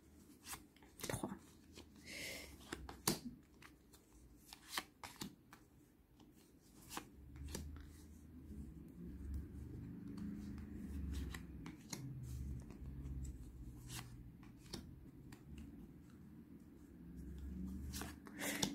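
Tarot cards being shuffled and drawn, giving soft papery riffles and flicks in scattered bursts close by, with low rustling and handling noise running underneath and no talking.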